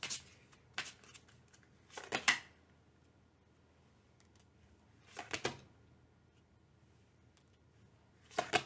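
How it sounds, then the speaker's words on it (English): Oracle cards being shuffled by hand, heard as a few short, crisp riffling bursts spaced several seconds apart with quiet pauses between, close and moderately loud, no talking. "let's use a couple of oracles that I'll shuffle"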